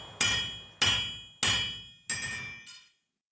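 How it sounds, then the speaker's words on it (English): A hammer strikes a copper metal nugget four times at an even pace, each blow a sharp ringing metallic hit that decays slowly, then a fainter fifth tap; close and alone without talk. "It's copper metal, and we can hammer that out."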